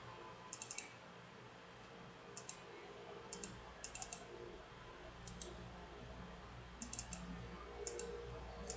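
A computer mouse is used at a desk with the left button. Sharp, faint clicks come in quick pairs and small clusters over a quiet background hum, close to the microphone and with no voices.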